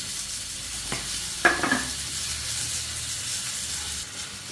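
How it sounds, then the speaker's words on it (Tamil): Tomatoes with salt sauté in a pan for chicken kothu dosa, a low steady sizzle with a couple of sharp spoon knocks and a brief scrape of stirring near the start. "தக்காளி வதங்க உப்பு போடுறோம்."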